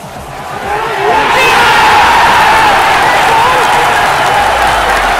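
Football crowd at a Cork City v Shamrock Rovers match roaring and clapping, a loud, dense wall of cheers swelling after the first second and sustained throughout.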